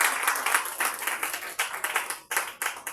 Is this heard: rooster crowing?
no